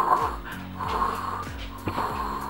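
An excited golden retriever breathes in rapid, rhythmic wheezy snorts close by, roughly two per second, each with a falling nasal tone, with no talk over them.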